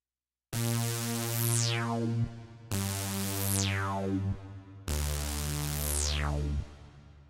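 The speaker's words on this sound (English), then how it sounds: "there is this high sweep kind of sound" Three sustained synthesizer keyboard notes, each with a bright high filter sweep falling steadily downward, played one after another with brief gaps and no talking.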